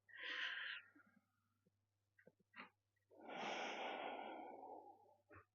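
Slow deep breathing during a yoga session for the lower back, two long close breaths separated by a quiet pause with small mouth sounds, over a low steady hum.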